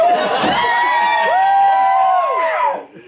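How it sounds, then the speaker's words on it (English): A comedy showcase audience bursts into loud cheering and whooping, a dense crowd roar that holds for a few seconds and then drops off quickly. "you can cheer if you want to"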